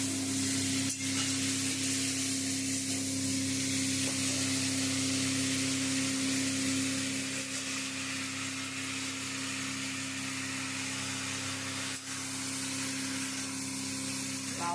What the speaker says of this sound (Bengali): অল্প অল্প করে লাউ দেবো আর নাড়বো।